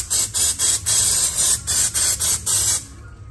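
An aerosol can sprays a wheel hub during a brake rotor and ceramic pad job, with about nine loud, close hissing bursts in steady rhythm before falling silent.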